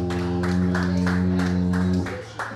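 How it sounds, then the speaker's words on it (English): A comedy audience in a dive bar claps for a comedian, with rhythmic group clapping over a loud sustained musical tone that cuts off near the end. "Another round of applause for Heather Dragulescu."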